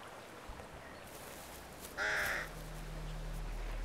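A single crow caws once, loud and fairly close, over a faint, steady outdoor background in the taiga forest near an empty nest.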